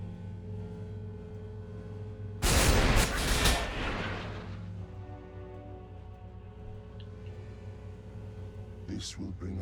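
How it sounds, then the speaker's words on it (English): Missiles fired from a Tau Broadside battlesuit in Warhammer Battlesector, a sudden loud burst of launches and blasts that rumbles and fades over a couple of seconds, set against a steady game soundscape with a faint later clatter. "you can use your Seeker missiles"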